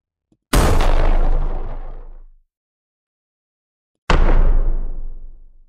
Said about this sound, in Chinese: 这好像是炮声